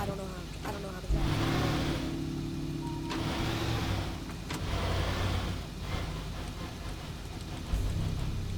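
A car driven in the video game Teardown, a steady mid-pitched engine drone with revving swells and shifting tones, heard close and continuous, with a person talking over it.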